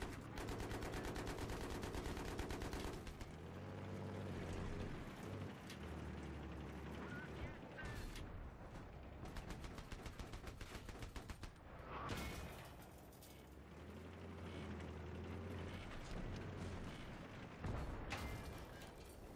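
Turret gunfire in a shooter video game crackles in dense rapid bursts, loud and close, with mechanical clatter and brief pauses between volleys.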